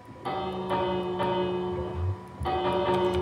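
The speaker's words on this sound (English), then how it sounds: "make sure you have the doorbell" A Minecraft video game doorbell chime rings out in a few resonant, bell-like tones, clean and synthetic, repeating after a short pause.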